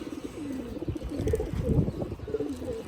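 Bronze chila pigeons coo in a loft, a few soft rolling coos close by over a low murmur of background noise, with no voices.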